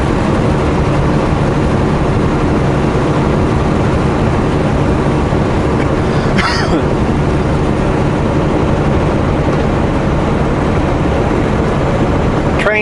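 A Canadian Pacific freight train led by two locomotives, numbers 8819 and 8639, rumbles past in a steady low continuous roar that holds level throughout, with a brief higher screech partway through.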